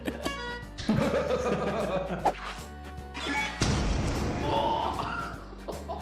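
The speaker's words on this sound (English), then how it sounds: "that explosion was massive. That was a huge explosion" Loud crashing blasts and rumbling debris from a game, with a few sharp impacts and some laughter and talk mixed in.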